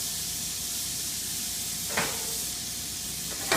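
Vegetables and quinoa sautéing in a pan with salt and pepper, a steady close sizzle and hiss with a couple of brief clinks or stirring knocks near the end.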